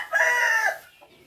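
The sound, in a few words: hen clucking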